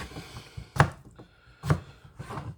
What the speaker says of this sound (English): I'm just cutting out some of the eyes and the dark spots.